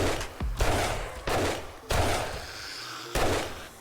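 Gunfire from a .44 in the zombie survival game 7 Days to Die, several loud sharp shots spaced roughly half a second to a second apart, each with a short decaying tail.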